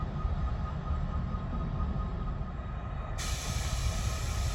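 An old CSX Geep diesel locomotive idles at a rail interchange in Decatur, Alabama, giving a steady low rumble with a constant airy hiss over it, unchanging and moderately near.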